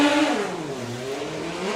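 Kawasaki 1500 drag racer at a drag strip, heard mid-run: a brief, loud engine howl sliding down in pitch as it passes or changes gear, fading slightly at the end.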